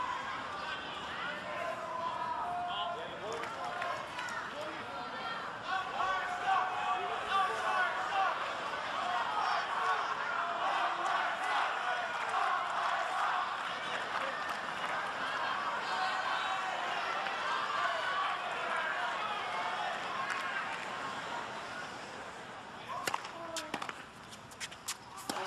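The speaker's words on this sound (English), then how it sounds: "the crowd who was so pro-Murray at the start of this final set all of a sudden feel as though some sort of injustice has been done to Gonzalez" Tennis spectators at a 2006 US Open third-round match between Murray and Gonzalez murmur and react in a sustained crowd hubbub, swelling in the middle and thinning toward the end, with a commentator talking over it.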